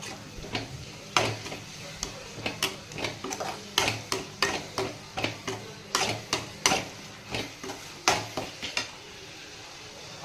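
Tamarind gojju fries in oil in a pan while a spatula scrapes and knocks against it in repeated, irregular strokes, close and crisp over a soft sizzle.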